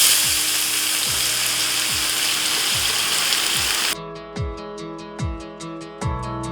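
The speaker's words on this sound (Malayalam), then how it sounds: "ജീരകം ആദ്യം ഒന്ന് പൊട്ടിക്കണം" Cumin seeds splutter in hot oil for a chicken curry, giving a loud, dense sizzle with popping for about four seconds before it abruptly gives way to quieter rhythmic tones.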